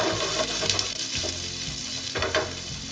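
Onions crackle and sizzle in hot oil with garlic and green chili, a steady close hiss of frying broken by a few stirring scrapes and clinks.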